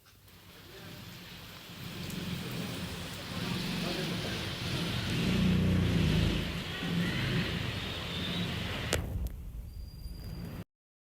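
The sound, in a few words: heavy rain outside the window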